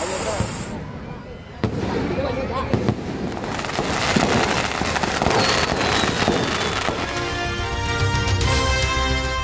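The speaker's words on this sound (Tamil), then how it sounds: "வானில் மாயாஜாலம் காட்டிய பட்டாசுகளை கண்டு ரசித்த மக்கள்." Fireworks burst and crackle repeatedly over a temple festival, with sharp bangs followed by dense sizzling and popping, loud and continuous over a noisy background.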